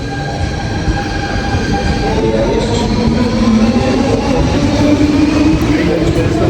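Train rumbling at Copenhagen Central station, a loud steady roar with rising wheel whine and faint squeal, close by, with a voice talking over it.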